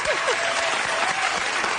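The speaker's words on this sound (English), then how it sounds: "Can we just cheer for Megan Thee Stallion, please?" Dense applause and cheering from a large awards-ceremony audience at the Grammys, a continuous loud wash of clapping throughout.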